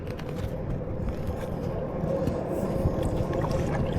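A kayak paddled along the Missouri River, steady water swishing and wind noise washing continuously at a moderate level, with no talk.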